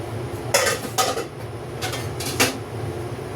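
A metal lid is set onto a cooking pot of beef on the stove, heard as a few sharp close clanks and clinks in quick succession over a low background hum.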